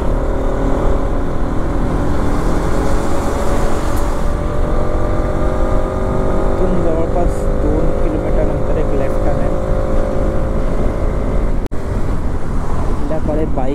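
A motorbike climbs the winding Kasara ghat road, its engine a steady, loud drone with shifting pitch as it takes the curves, while wind rushes past and a rider talks over it.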